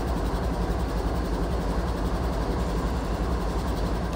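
An HO scale model train runs on a layout, giving a steady low rumble and hum that stays even and close throughout, with no voices.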